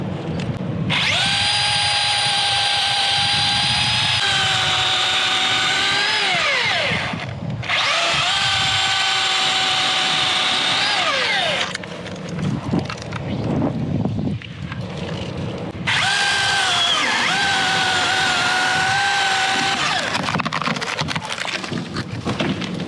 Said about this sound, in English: So I'm gonna cut this.